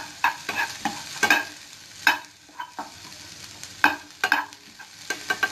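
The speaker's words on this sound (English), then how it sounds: "add your green beans. Again, give them a stir." Green beans frying in a pan with vegetables and eggs, stirred in irregular clattering scrapes over a soft underlying sizzle, close and quiet, without speech.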